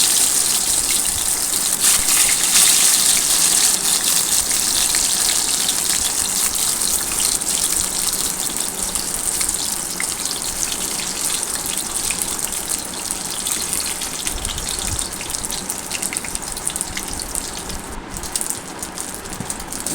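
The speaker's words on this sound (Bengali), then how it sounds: "হালকা লাল করে আমি এই ধোকাগুলো ভাজবো।" Dhoka lentil cakes fry in hot oil in a pan, giving a continuous loud sizzle and bubbling hiss that runs unbroken for the full twenty seconds, close up with no voices.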